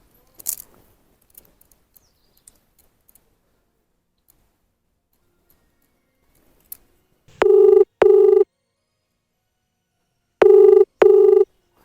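A telephone handset dials with faint clicks and ticks, then after a pause two pairs of loud electronic ring tones sound, each pair a quick double burst.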